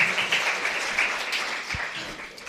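Applause from a church congregation, a dense, steady patter of many hands that stays fairly even over a couple of seconds.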